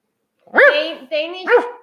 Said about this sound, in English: then you get this puppy